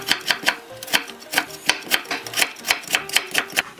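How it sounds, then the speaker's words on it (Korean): A knife cuts carrot into thin julienne strips on a board, with quick regular chopping taps about four per second, close and crisp, and no talk. "당근도 조금만 채를 썰어 주겠습니다"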